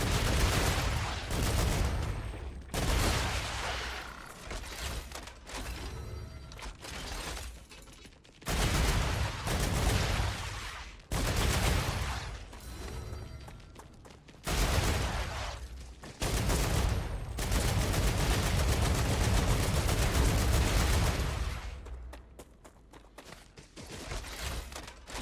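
Heavy artillery fire in the video game StarRupture comes in loud, booming barrages, several long sustained volleys separated by brief lulls, dense and close with rumbling low end throughout.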